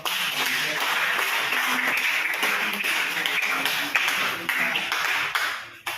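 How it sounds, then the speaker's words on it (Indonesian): Classroom applause for a student group after their presentation at a Christian religious education teaching assessment, a steady wash of many hands clapping close by for about six seconds before it cuts off. "Oke, tepuk tangan untuk kelompok."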